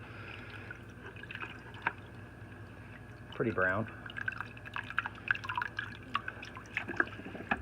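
Fluval 406 canister filter sponges are rinsed in siphoned aquarium tank water, with intermittent drips, trickles and a short splashing pour heard close by under a person's talking.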